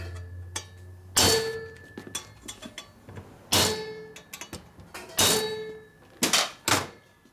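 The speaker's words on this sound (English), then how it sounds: "you get to beat on it with a hammer" Several sharp metallic hammer strikes on a Harley-Davidson Twin Cam Dyna engine part during a rebuild ring out at irregular intervals, some in quick pairs, with a faint hum and small clinks between blows.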